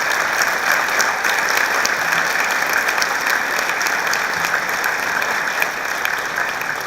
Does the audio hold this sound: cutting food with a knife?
no